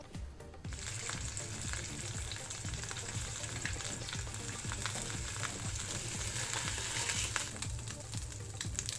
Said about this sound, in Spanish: En una sartén voy a agregar un poco de aceite, un chorro, y voy a agregar un filete de merluza